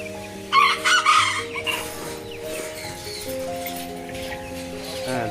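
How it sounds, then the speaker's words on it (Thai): A silkie chicken crows and clucks loudly nearby in a few short bursts, followed by quieter scratchy farmyard noise and a faint background hum. "ปิดท้ายด้วยซิลกี้นะครับ"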